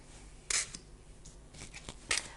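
Tarot cards being placed on a table, a few short crisp slaps and card rustles spaced apart at about half a second and two seconds, close and fairly faint.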